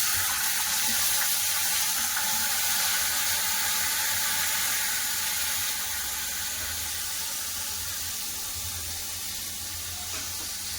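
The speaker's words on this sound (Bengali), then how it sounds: "ফোড়নে গেছে একটু জল দিয়ে দেবো" Water poured into hot oil with whole garam masala, cumin and bay leaf for pea pulao bursts into a loud, dense, steady sizzle that roars evenly close by and eases slightly toward the end.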